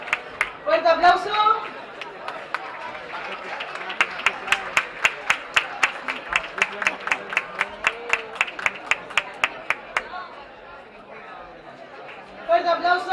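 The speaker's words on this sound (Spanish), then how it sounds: "Fuerte aplauso para Origen Dance Studio." Rhythmic unison clapping from an audience at a community festival in Antequera, greeting the Origen Dance Studio company, with steady sharp claps in the middle and crowd chatter and talk at the start and end.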